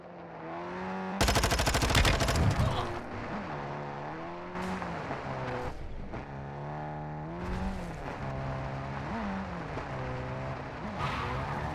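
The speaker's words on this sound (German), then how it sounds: "Da kommt ein Auto gefahren." A car drives up in a video game: its engine climbs and falls in repeated revving sweeps, broken early on by a loud burst of rapid gunfire, with steady game ambience throughout.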